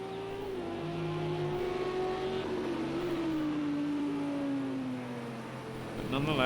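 GT3 race car engines at Watkins Glen in Project Cars 2: a steady engine tone drones and slowly drops in pitch, a nearby car whining alongside, with a commentator talking over it and a brief rise at the end.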